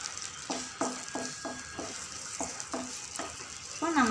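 Whole spices frying in melted butter in a pan for paneer butter masala: a continuous soft sizzle broken by a series of about ten short scraping stirs, close and fairly quiet, with no talking.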